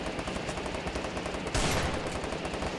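Rapid gunfire from a mobile squad shooter video game, a dense continuous burst of automatic shots that swells louder partway through, with no speech.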